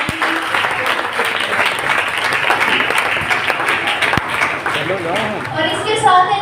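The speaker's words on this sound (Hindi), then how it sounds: "हम आप सबकी भरपूर तालियों उनको वेलकम करते और एप्रिशिएट करते" Full audience applause welcoming guests at a gathering, loud sustained clapping throughout with crowd noise and voices mixed underneath, swelling slightly at the end.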